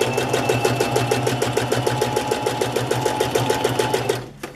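A sewing machine runs a steady straight stitch attaching fabric to a paper card, its rapid even needle clatter continuous and close for several seconds before stopping abruptly.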